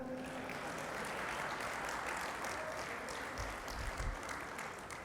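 Sustained applause from an audience at a Hindi poetry recital, a steady dense patter of many hands that holds at an even level, with a couple of low thumps near the end and no voices over it.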